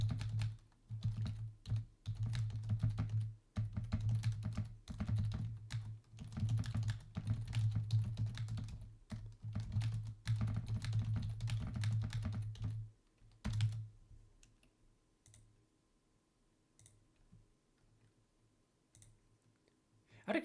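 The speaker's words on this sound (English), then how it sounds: "can anyone hear my keyboard clacking when I'm doing that?" Rapid clacking of a computer keyboard during a Subnautica gaming session, dense bursts of keystrokes for about thirteen seconds, then a few sparse clicks in quiet, close and fairly loud.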